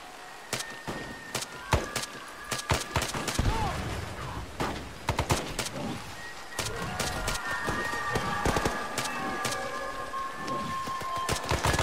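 ARMA 3 gunfire crackles in sharp, uneven volleys of shots, some close and some farther off, under sparse radio-style talk.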